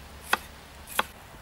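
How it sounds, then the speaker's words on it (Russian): Two crisp knife chops on a cutting board as carrot is cut into small pieces for lamb drumsticks braised in pomegranate juice, evenly spaced and close, with quiet room tone between. "Поэтому я ее режу вот такими небольшими кусочками, а лучок я режу крупными полукольцами."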